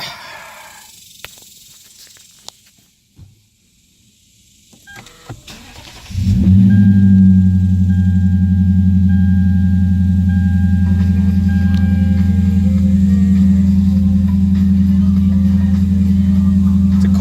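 Cold start of a 2011 Lexus IS F V8: a few seconds of quiet cabin clicks, then the starter catches and the engine flares loudly into a steady, heavy high idle that holds to the end.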